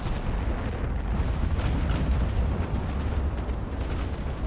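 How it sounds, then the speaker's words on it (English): Small 3-inch naval guns fire continuously in a WW2 warship battle game, producing dense overlapping booms and rumbling blasts over a constant roar of battle with no voices. "Oh, my little 3-inch guns are firing too."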